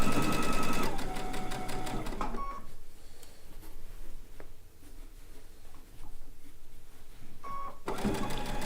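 A sewing machine stitching quilt seams for a blue and white quilt top runs in a fast close buzzing burst, stops for several seconds of quiet handling with faint clicks, then starts again briefly at the end.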